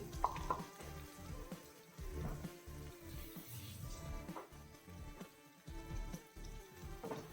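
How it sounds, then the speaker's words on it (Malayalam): Ground masala paste for prawn curry sautés in a pan, a soft, rain-like sizzle broken by rhythmic stirring and scraping strokes, heard quietly and up close. "ആ പേസ്റ്റും കൂടെ ഇട്ട് കൊടുത്തിട്ട് ആ പേസ്റ്റിൻ്റെ പച്ചമണം മാറുന്നത് വരെ നമ്മളൊന്ന് വഴറ്റിയെടുക്കണം"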